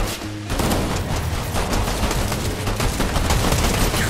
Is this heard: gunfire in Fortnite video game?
yes